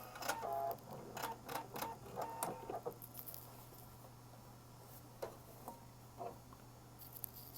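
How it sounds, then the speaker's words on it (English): A Husqvarna Viking Epic 980Q sewing machine trims its thread, giving a few quick, faint mechanical clicks and whirring bursts over a steady low hum, followed by sparse soft ticks in a quiet room. "Now let's cut that thread and look at that stitch."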